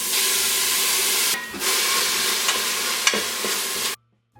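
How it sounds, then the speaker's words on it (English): Chopped onions hit a hot Instant Pot and sizzle loudly and steadily, a dense frying hiss with a brief dip and a few stirring clicks, then the sound cuts off abruptly into near silence. "now that our Instant Pot is hot, I'm gonna add in the onions"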